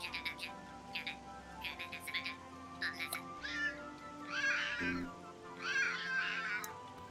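Flick the cat in the game A Tiny Tale gives several short, close meows and a few longer, drawn-out mews over a faint background hum.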